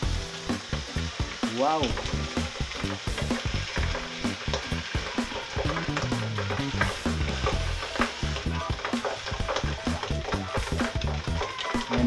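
Grilled milkfish (bangus) sizzling in a frying pan, a loud steady fry with crackling bursts and stirring clatter throughout; a brief exclamation is heard once.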